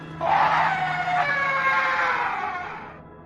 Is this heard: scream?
yes